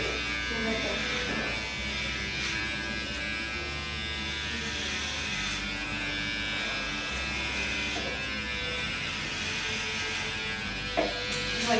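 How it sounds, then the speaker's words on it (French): An electric shaver takes a head down to zero, giving a steady close buzz that runs the whole time, with speech mixed in over the hum. "C'est la première fois que vous rasez à zéro."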